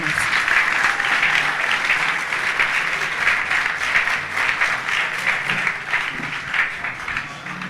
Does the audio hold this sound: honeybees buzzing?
no